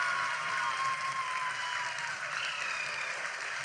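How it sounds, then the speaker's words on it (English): Applause from people watching the Chandrayaan 3 lander module, heard as a fairly distant, moderately quiet, even wash of clapping throughout. "People are applauding."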